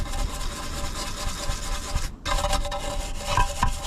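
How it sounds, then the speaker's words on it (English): An old scrubbing brush scours the degreased oil sump of a Saab 9-5 Aero, rough rasping strokes up close in quick repeated passes with a brief pause midway. "This old scrubbing brush is doing the trick."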